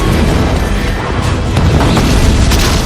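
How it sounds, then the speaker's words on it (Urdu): Cannon bombardment from artillery on mountain slopes, rendered as a loud, continuous rumbling boom that fills the whole stretch with dense roaring blasts and no voices. "حجاج نے بھی مکہ کے پہاڑوں پر اپنے توپوں کو کھڑا کیا اور مسجد الحرام پر بمباری شروع کی"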